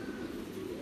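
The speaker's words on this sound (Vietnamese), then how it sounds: "Đây là ở trại bồ câu của mình đây anh em ạ." Pigeons cooing at a pigeon farm, a short, soft, low murmuring coo heard alone at moderate distance.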